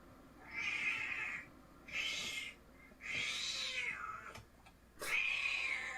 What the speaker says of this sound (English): The kitten